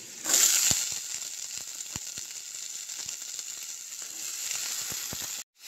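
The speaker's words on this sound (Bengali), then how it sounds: "পেঁয়াজটা ভাজা হয়ে গেছে, এবারে সবজিগুলো দিয়ে দিচ্ছি।" Steady sizzling of vegetables and onion frying in a hot pan, a bright continuous hiss with occasional sharp crackles and a louder burst near the start.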